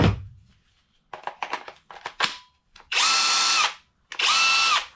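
Kobalt cordless drill running on a 2 amp hour battery: a few clicks and short trigger blips, then two loud, close whirring runs of about a second each, with no talk over them.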